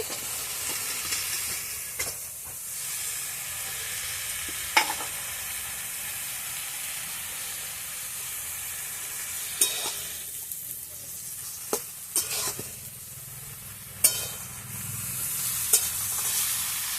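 Fried vegetables mixed into greens in a pan, a steady close sizzle of hot oil running throughout, broken by sharp scrapes and knocks from a stirring utensil.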